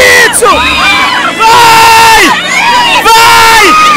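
A loud, dense crowd of fans roaring and whooping at a sports match, with high shouts and chant-like swells rising and falling over a continuous wall of cheering and babble.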